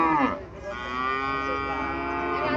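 A Sahiwal cow gives one long, loud moo close by, a drawn-out low call.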